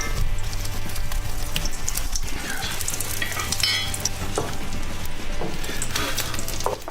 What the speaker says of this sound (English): It's a good sizzle, but that sounds like it's hot.